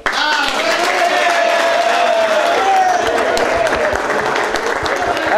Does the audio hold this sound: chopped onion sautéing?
no